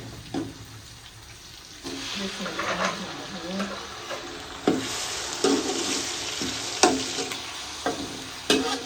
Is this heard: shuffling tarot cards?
no